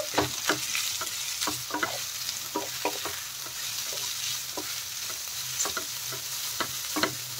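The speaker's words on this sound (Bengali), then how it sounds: "এখন আমি দিয়ে দিলাম কুচনো পেঁয়াজ, কুচনো গাজর, আর দিয়ে দিলাম ক্যাপসিকাম। এইগুলো একটু হালকা ভেজে নেব।" Chopped onion, carrot and capsicum frying on high flame for paneer spring rolls, a soft, even sizzle punctuated by frequent sharp spatula scrapes and taps against the pan, with no talk.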